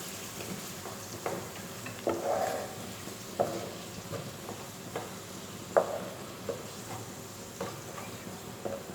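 Green chillies and tomatoes cook in a pan for egg masala, giving a soft, steady sizzle broken by a few sharper stirring scrapes and clinks. The sound is fairly faint, with no talking.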